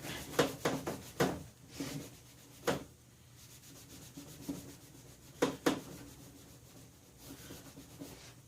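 Hand rubbing or sanding strokes on the hood of a John Deere L100 riding mower, a series of short, fairly close scrubbing bursts in clusters with quiet gaps between them, no talking.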